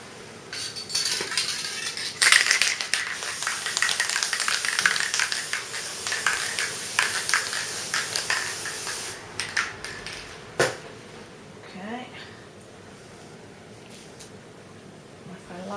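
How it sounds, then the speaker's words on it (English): A close can of basting spray hisses in long bursts onto quilt fabric for several seconds, mixed with light clicks and rustling, then stops as handling noises continue. "A bit more basting spray."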